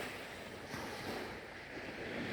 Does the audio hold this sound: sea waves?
yes